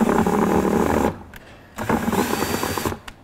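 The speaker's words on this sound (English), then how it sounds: "I'm simply gonna mix this paddle wheel in here" Power drill spins a paddle wheel mixer in a bucket of denatured alcohol, whirring loudly and close, stopping for about a second, then running again for another burst before cutting off, with no talk.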